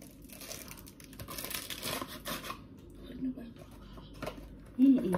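Aluminium foil crinkles and crackles up close in short bursts as snoek is wrapped for a braai, with voices chatting intermittently over the rustling.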